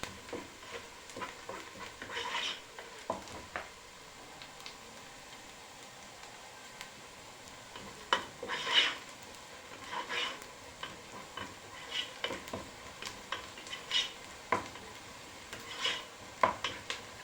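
Chicken frying in a pan for stuffed vegetables, a soft low sizzle under repeated scraping and clinking stirs of a spoon against the pan, close but fairly quiet, no talking.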